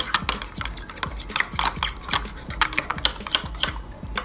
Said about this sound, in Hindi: मैं इसे यहाँ पर स्पून की मदद से मिक्स कर रही हूँ